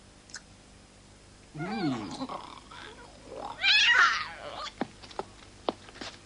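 A cat gives a drawn-out, wavering meow, then a louder, higher caterwauling cry, with a few soft clicks and knocks after it. It is close and clear, with no talk.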